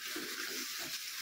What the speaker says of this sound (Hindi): इसमें हम ना चिकन को ऐसे फ्राई करेंगे